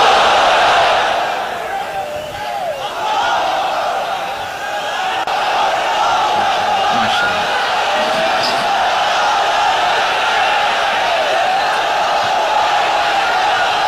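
A huge crowd of many thousands at an open-air religious gathering on Chattogram's Parade Ground chants takbir in unison, a loud, sustained wash of voices that swells and holds for the whole stretch.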